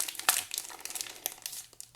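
Foil wrapper of a retail basketball card pack crinkles and tears as it is pried open by hand, a close, busy run of sharp crackles and rustles with no talking.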